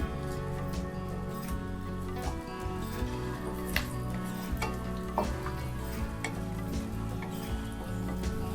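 Tempering spices for coconut rice sizzle and crackle in hot oil, including urad dal, chana dal and broken dried red chillies, with steady frying hiss and occasional stirring clinks close by, and no talk.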